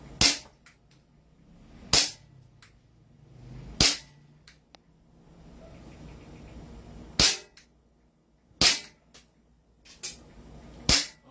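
An M4A1 toy gel blaster fires at a target: sharp, snappy single shots spaced a couple of seconds apart, seven in all, with quiet room tone and faint rustling between them.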